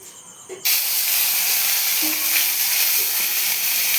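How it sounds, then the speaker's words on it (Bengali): Onion paste going into hot oil in a kadai: after a quiet moment, a sudden loud hiss bursts up and holds as a steady, close sizzle. "এবার কড়াইতে এই পেঁয়াজ বাটাটা দিয়ে দেব।"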